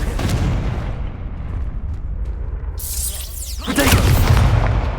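Blasting spell explosion in the Hogwarts Legacy video game: a loud booming burst near the end, following a steady rumble of game noise and effects.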